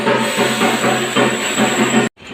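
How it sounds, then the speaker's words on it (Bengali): A train pulling into a railway station, with a steady loud hiss and mechanical rumble that holds for about two seconds and then cuts off abruptly, followed by near silence. "এই যে আমাদের ট্রেন স্টেশনে ঢুকছে,"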